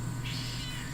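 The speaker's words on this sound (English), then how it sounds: "Meow." A house cat meows once, a drawn-out, fairly loud cry heard close up over a steady background hum.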